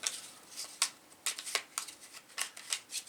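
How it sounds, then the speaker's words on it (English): Board game tiles for Boonlake shuffled by hand on a tabletop, giving a series of dry clattering bursts that come in irregular clusters, close and fairly quiet, with no talking. "take your tiles and kind of just shuffle them up as best you can"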